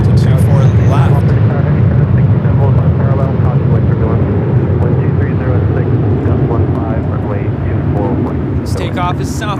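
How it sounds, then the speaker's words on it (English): A Delta Boeing 767 taxiing toward runway 24 Left at LAX gives a steady, loud jet engine roar that holds constant throughout, with people talking over it. "We got that Delta 767 now making its way to 24 left."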